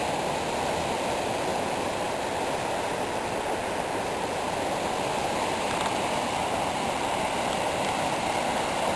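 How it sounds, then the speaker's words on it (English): Floodwater from the overflowing Ottawa River in Toledo rushes steadily through a fence, a loud, continuous broadband roar with no pauses and no voices. "See the water going right through this fence here."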